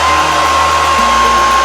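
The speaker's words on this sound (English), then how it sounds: "now after I done completed blow drying all over my head in sessions" Hair dryer blowing loudly and continuously while drying natural hair, a steady close roar with a high whine and a slight change in pitch midway.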